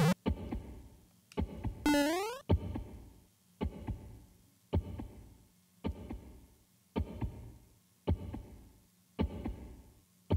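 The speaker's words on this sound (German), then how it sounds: "Herzklopfen" Heartbeat sound effect in a creepy Mario Maker 2 level: about ten deep, evenly spaced double thumps roughly once a second, loud and close, with a brief rising electronic chirp near the start and no talking.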